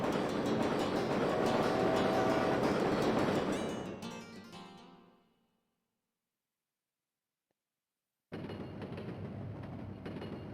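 A Wild Arms 2 train departing from the station gives a loud, dense mechanical rumble and rattle that fades out completely into several seconds of silence, then a steady rolling noise cuts back in abruptly.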